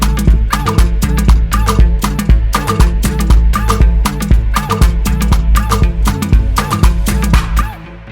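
Serum synth preset PL Sneakers / Block Sneakers in an Afrobeat-style loop for an instrumental, with punchy low end and sharp repeated plucky hits in a bouncing pattern. Loud and continuous, fading slightly at the end, no talking.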